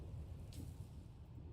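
Low rumbling of an approaching storm in the Dune Awakening video game, a steady deep roar with rain-like hiss filling the whole short stretch, moderately quiet and continuous with no voices.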